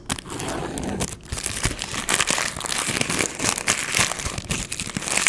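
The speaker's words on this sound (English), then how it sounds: "a crinkly tissue paper sound." Tissue paper crinkles and rustles continuously up close, a crisp, crackly texture with small sharp crunches throughout.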